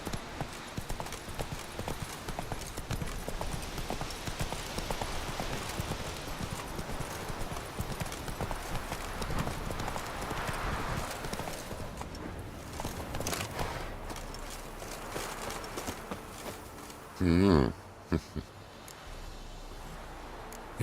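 Horse hooves clip-clopping steadily in The Witcher 3 video game, a continuous rhythmic beat running for most of the stretch, joined by a brief louder burst near the end.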